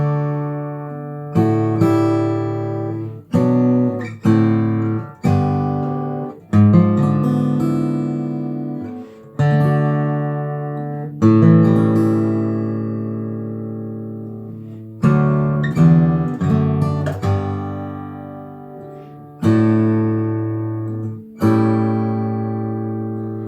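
Fingerstyle guitar plays the slow closing measures of Randy Newman's "When I'm Gone," with plucked chords ringing out and decaying between phrases, close and clear with no voices.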